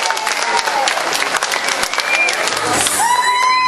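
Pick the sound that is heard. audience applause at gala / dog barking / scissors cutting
audience applause at gala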